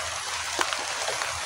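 Steady rain hisses down outdoors in a dense, even wash, with a few faint drips and patters breaking through near the listener.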